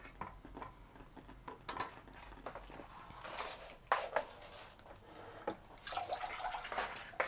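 Water is poured into banana ketchup sauce in a kitchen pot, with clinks, splashes and dripping that come in irregular bursts, close by and moderately loud, and no talk over them.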